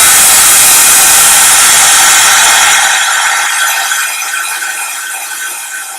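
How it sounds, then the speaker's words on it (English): A heat tool blows on sanded shrink plastic to emboss it: a loud, steady airy whoosh close by that thins out and gradually fades. "So I've prepped my sanded and smooth piece, and we're going to emboss that."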